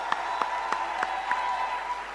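An audience applauds the Bank of Ghana governor at a Ghana Cedi 60th anniversary celebration, steady crowd clapping with a few louder individual claps standing out, with no talk over it.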